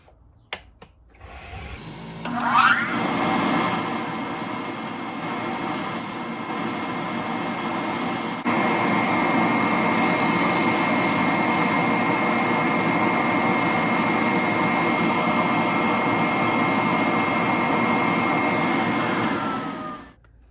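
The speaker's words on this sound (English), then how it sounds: "I'm just going to sand these edges off." Koa and bacote wood bentwood rings have their edges sanded, a continuous close rasping whir that starts after about two seconds and grows louder partway through before stopping at the end.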